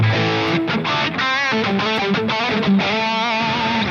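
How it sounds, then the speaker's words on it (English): Crunchy, tight distorted electric guitar through a Marshall JCM800 amp plugin, played as a loud, punchy riff with sustained chords and bent single notes, up close and alone without talk. "That to me is just like an awesome Marshall JCM800 sound."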